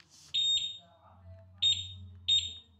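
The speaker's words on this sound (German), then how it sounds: "piept jetzt anders, piept jetzt nur noch einmal." Repeated electronic beeps from a Lambretta or Vespa scooter alarm, three short high-pitched chirps spaced about a second apart, fairly close and clear over a low steady hum.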